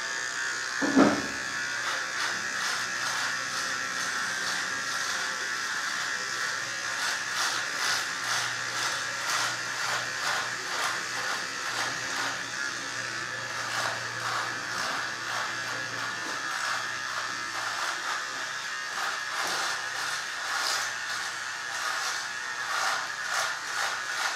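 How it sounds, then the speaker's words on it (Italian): Electric razor roughly trimming down a full, thick beard at a barbershop, a steady close buzzing drone with slight rhythmic pulsing that runs continuously, opening with one brief knock. "intanto sgrossiamo questo barbone con il rasoio elettrico"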